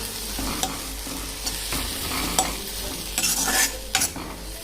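A spatula stirs garlic fry with red chili powder in a hot pan. Scraping and shuffling strokes come at irregular intervals over a continuous sizzle, close and clear, with no talking.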